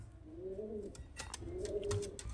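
A pair of Murshidabadi Giribaz pigeons coo twice in low, rolling calls, close by, with faint flutters and small knocks around them.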